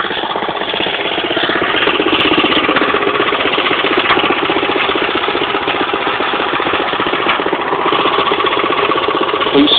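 A tiller engine churns over farmland with a loud, continuous, rapid chugging rumble that stays steady throughout.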